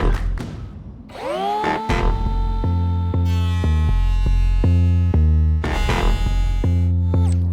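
Makita power tool whining at steady pitch during a narrowboat refit, the motor winding up, pausing and restarting in several bursts with stepped changes in speed, loud and close.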